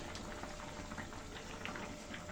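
Water boiling in a pot of soybean curry, the base for a spiced dish with ginger paste, gives a steady dense bubbling and hiss, close and even throughout, with no voices.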